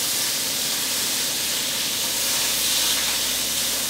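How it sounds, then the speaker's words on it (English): A steady, loud hiss of cooking spray sprayed onto a pan, lasting several seconds without pause, close up and alone. "I'm going to spray a little bit extra cooking spray. Coat that pan"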